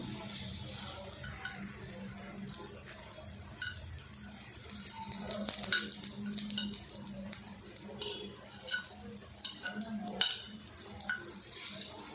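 Snacks shallow-frying in oil in a pan give a steady, soft sizzle with light scraping and stirring from a utensil, a faint low hum beneath and occasional clinks, with no voice heard.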